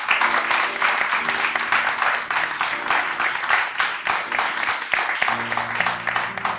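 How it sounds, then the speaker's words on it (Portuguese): Congregation clapping in a church service, moderately loud continuous applause mixed with sustained background music tones and some crowd noise throughout. "Dá uma salva de palmas"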